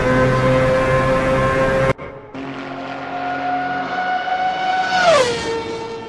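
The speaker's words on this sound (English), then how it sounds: "So when in doubt, listen to a Mazda." A Mazda 787 race car's rotary engine screams in a racing video game at Le Mans, a dense high-pitched wail that cuts out briefly, then returns climbing steadily through a gear before dipping sharply as it shifts or passes.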